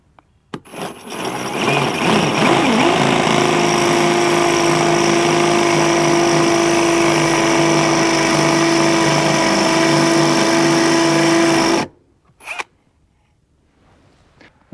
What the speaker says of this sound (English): so you can begin drilling